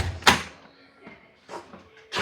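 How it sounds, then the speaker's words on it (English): A door on a Maverick is pushed open with one sharp, loud clunk near the start, followed by a few softer knocks and rattles and a final bump at the end. "I can't even open my door"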